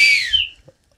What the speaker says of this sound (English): His brother had a friend that had a 3D printer, and they printed a whistle that fits on his tray.